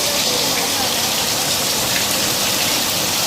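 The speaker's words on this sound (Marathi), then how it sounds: "खतरनाक पाऊस आलाय" Heavy monsoon rain pours down steadily outdoors, a dense, continuous roaring hiss with no breaks, loud and close throughout.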